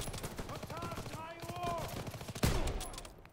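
Rapid gunfire from Call of Duty WWII crackles in quick bursts under a voice, with one sharper, louder shot near the end.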